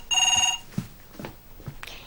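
A telephone bell rings in a sitcom living room, one bright trilling burst close by, followed by soft rustles and small knocks.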